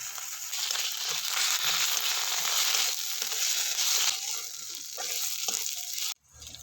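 Chopped onion and green chili fry in hot oil with ginger and garlic paste for aloo chop, a loud, continuous broadband sizzle with faint stirring rustles, dropping away abruptly near the end.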